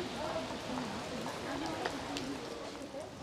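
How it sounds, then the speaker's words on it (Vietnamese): Heavy rain from Typhoon Yagi falls beside a riverbank as a steady, close hiss of downpour, with a person talking over it. "Mưa quá mọi người ạ."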